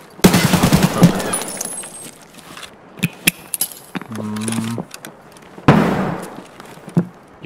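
Gunfire in a video game comes as clustered bursts of sharp shots, with metallic clicks, jangling and scattered impacts between them, loud and close with brief pauses.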